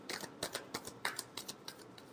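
Tarot cards are being shuffled up close in a quiet room, giving a quick series of soft riffling flutters and light taps in an uneven rhythm.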